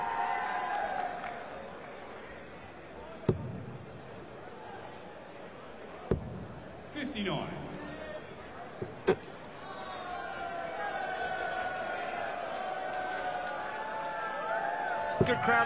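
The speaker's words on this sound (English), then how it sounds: "Good crowd in this afternoon" Steady crowd murmur fills an indoor darts arena in Hamburg during a World Cup of Darts afternoon session, broken by a few sharp claps or thuds and a brief swell of voices near the middle.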